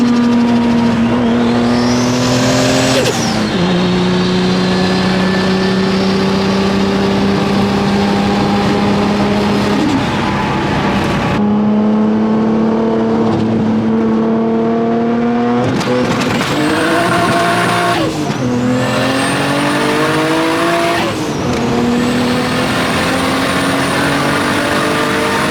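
A 2JZ-swapped MK4 Toyota Supra engine revs hard and two-steps, its loud, close, continuous roar rising and dropping in pitch with sharp stuttering breaks between pulls.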